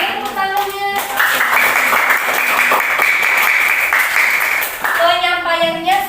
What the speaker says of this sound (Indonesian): Oke, tepuk tangan dong untuk Adelia.